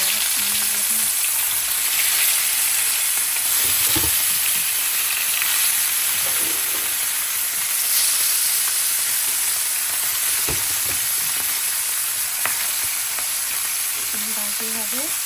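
Puti fish frying in hot oil with onion, ginger and garlic, a constant broad sizzle with occasional spatula knocks and scrapes, close and steady throughout.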